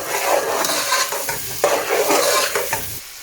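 Lamb and onions cook in a large family pot over low-medium heat for lamb dhansak, giving a loud sizzle broken by repeated stirring strokes and utensil scrapes against the pot, with no talk.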